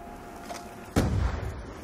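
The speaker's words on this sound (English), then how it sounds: "Grenade!" A grenade goes off in Black Ops 2 Zombies, a sudden loud close blast followed by a brief rumbling decay after a short quiet lead-in.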